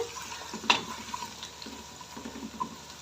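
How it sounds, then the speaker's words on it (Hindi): Garlic ginger paste sautéing in a pot for pulao, a faint low sizzle with a sharp metallic clink near the start and soft stirring scrapes. "1 से 2 मिनट इसे अच्छे से पेस्ट के साथ भी भून लेंगे।"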